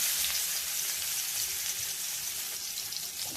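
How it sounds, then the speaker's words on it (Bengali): Onions dropped into hot oil in a wok with fried potatoes, a steady close crackling sizzle with light stirring throughout. "আলু ভাজা তেলের মধ্যেই দিয়ে দিলাম পেঁয়াজ"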